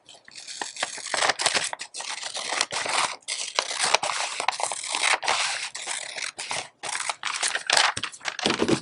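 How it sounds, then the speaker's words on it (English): Paper scissors cutting through a paper sewing pattern for an ostomy pouch, close crisp snips and scraping strokes in an irregular rhythm, with no talk. "Then I am going to take my paper scissors and cut that."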